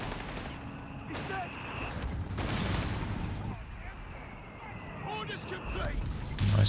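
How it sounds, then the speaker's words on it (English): A mortar barrage lands on a machine-gun position in a Company of Heroes 3 match, with a rolling series of muffled blasts and gunfire under steady commentary. "Nice mortar barrage there on the MG."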